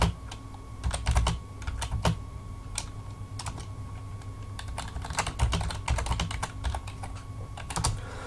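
Rapid, uneven bursts of clicking keys on a computer keyboard, close and fairly quiet, with short pauses between flurries of typing.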